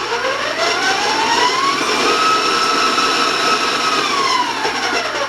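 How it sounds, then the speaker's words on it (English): An electric mixer creams butter for oatmeal coconut raisin cookies, giving a loud, steady motor whine that holds at an even level without pause. "Now I'm going to warn you about the sound of the mixer."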